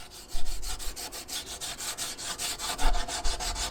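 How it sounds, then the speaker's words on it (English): A Scotch-Brite pad scrubs leftover adhesive off a truck's painted surface in quick, rhythmic back-and-forth rubbing strokes, close and moderately loud, with no voices. "Let me get a Scotch-Brite pad out, and I'll bet you that'll be the end of this"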